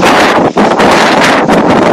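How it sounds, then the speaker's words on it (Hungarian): Strong wind roars steadily into the microphone, a loud constant buffeting rush with brief dips in the gusts. "És kurvára fúj a szél."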